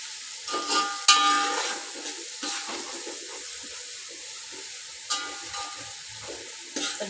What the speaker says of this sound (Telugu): కొంచెం ఎర్రగా అయ్యేదాకా కలుపుకుంటున్నాను